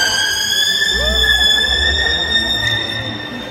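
Killer whale calls produced through the blowhole: high, sustained whistling tones with rising and falling squeals over a low watery rumble, no talking.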